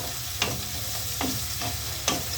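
Onions sautéing in a pan, a low steady sizzle broken by a few sharp scrapes of a spoon stirring, close and without voices.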